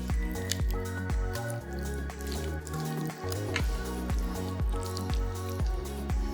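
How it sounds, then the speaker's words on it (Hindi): Washed fish gets mixed by hand with achari masala, giving close, wet squelching and sticky squishing in a steady repeating rhythm with no talk over it. "मछली के ऊपर मसाला अच्छे से कोट होने तक मिलाएंगे।"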